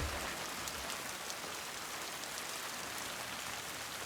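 Heavy rain pours down steadily, a dense, even hiss of drops striking surfaces that continues unbroken with no voices.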